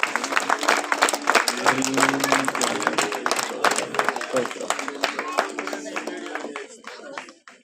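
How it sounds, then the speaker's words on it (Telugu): A congregation at a praise service claps loudly and steadily in dense applause, with voices mixed in under it, fading out toward the end. "అందరూ కూడా గట్టిగా చప్పట్లు కొడుతూ దేవుని మెచ్చుకుంటున్నారు."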